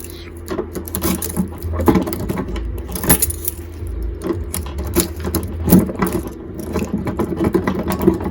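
Keys jangle and scrape close up as several regular keys are tried in a Toyota lock, with irregular metallic clinks and rattles continuing throughout and occasional faint talk underneath.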